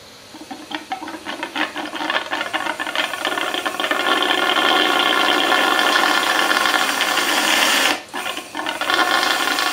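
Air forced into the water-filled cooling system of a homemade water-cooled Briggs engine makes a loud, steady bubbling rattle that builds, cuts off briefly near the end, then resumes.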